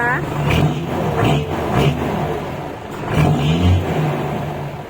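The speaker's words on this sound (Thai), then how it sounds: "เดี๋ยวเรามาฟังเสียงเครื่องนะคะ เสียงเครื่องยนต์นะคะ" A car engine revs repeatedly in deep, throaty bursts through a loud exhaust, with a voice briefly heard alongside.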